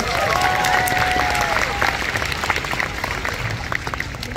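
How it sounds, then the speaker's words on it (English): An audience at a Universal Studios Hollywood animal show claps for a volunteer, a steady wash of applause with a faint whistle-like tone early on and crowd murmur beneath. "A round of applause for our volunteer."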